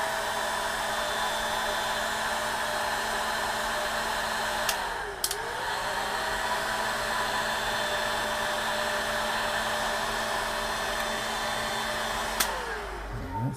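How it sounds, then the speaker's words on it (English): A very powerful hair dryer blows in a loud, steady roar, running continuously with a couple of brief clicks and dips, and no talking. "I gotta get the really powerful hair dryer"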